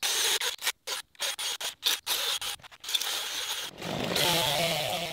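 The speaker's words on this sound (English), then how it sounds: "Now, time to get out the drill." A power drill whirs in short, choppy bursts close by, then settles into a steady, continuous grinding as it bores into a fire-burned wooden tree stump.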